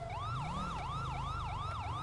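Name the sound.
police car lights and sirens in a roleplay video game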